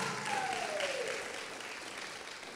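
A theater audience at a university stage event claps and cheers for a local nonprofit boxing academy, a broad wash of applause that starts strong and slowly eases off.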